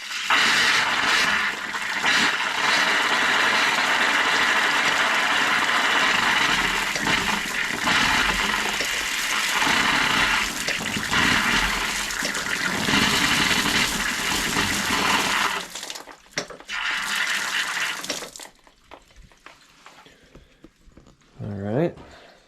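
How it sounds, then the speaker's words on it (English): Air hissing and gushing out of a pressurized well pump system and tank, a loud steady rush for about fifteen seconds that then breaks into short spurts and fades, with a voice talking near the end. "I'm going to try to let some of the air out of it here"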